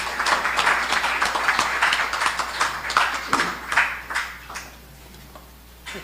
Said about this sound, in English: Can you get a round of applause, please?